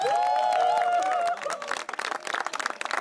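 Audience clapping for a haegeum player at a Korean traditional music storytelling performance, rising after a sustained tone and continuing as scattered, fairly close applause to the end.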